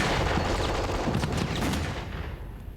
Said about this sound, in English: German rifles, machine guns and mortars pounded the advancing British.